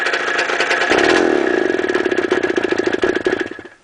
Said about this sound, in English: That's what happens when you go full throttle though. It just dies out.